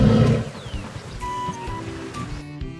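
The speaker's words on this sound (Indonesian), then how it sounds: "ini ada singa." A toy lion gives a short electronic roar that is loudest at the start and then tails off into tinny, warbling tones. It is brief and close, with no talking.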